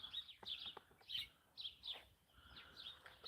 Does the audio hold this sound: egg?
no